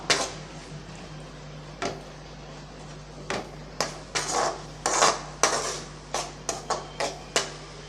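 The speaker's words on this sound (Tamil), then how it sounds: "நல்லா கிண்டி விட்டுடலாம்" A spoon scrapes and knocks against a pan while brinjal thokku is stirred, a string of sharp metallic clinks and scrapes that starts sparse and grows quicker and closer together toward the end.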